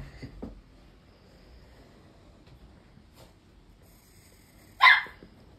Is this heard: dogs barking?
yes